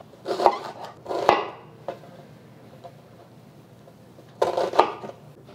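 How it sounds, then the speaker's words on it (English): Knife chopping a giant shallot into chunks on a board: a few sharp knocks in two bursts, a pause between them with only faint ticks, no talking. "I'm just going to cut this up also into chunks."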